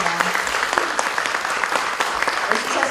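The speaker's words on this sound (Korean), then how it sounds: "뜨거운 박수로 감사를 표해주시기 바랍니다." Sustained applause fills a hall at a Korean women's association forum on preventing sexual violence, thanking the organizers. The clapping is dense and steady throughout, with faint voices underneath.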